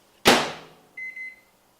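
A microwave oven holding Eggos waffles gives a sharp thump, then two short, high beeps. The sounds are close and clear against near silence, and no one speaks.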